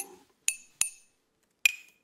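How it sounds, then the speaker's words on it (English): Glass rings out in four separate bright clinks, crisp and close, each decaying quickly in near silence; it is a single pitched note struck repeatedly in a sparse, uneven rhythm. "There's the sound of the glass"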